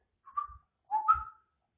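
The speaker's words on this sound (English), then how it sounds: "So whistle." A person whistles two short, clear tonal notes, the second longer and rising, alone in a quiet room.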